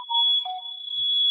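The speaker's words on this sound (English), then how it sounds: "My smoke alarm going off." Household smoke alarm sounding after food burned in an oven, a single shrill, steady high-pitched beep tone held for over a second, close and loud.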